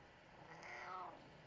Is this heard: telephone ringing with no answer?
no